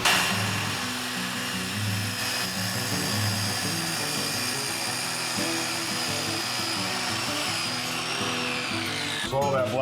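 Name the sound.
track saw cutting through its rubber flange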